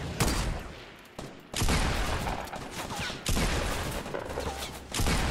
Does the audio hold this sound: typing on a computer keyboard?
no